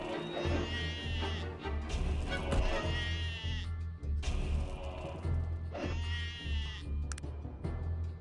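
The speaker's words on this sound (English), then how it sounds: "Oh, some cows, just what I needed." Cows in the Arcanum video game low repeatedly in drawn-out, bleating calls that swell and fade over a steady, dense game backdrop with low rumbling.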